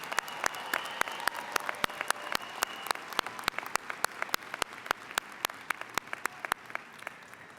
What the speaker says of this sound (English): Will the audience please join me in applauding these honors graduates and honors candidates?